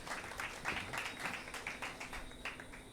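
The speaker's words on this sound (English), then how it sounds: "Let's give them another round of applause," A small audience at an evening speaker event claps for about three seconds, a quiet, moderately dense patter of hands.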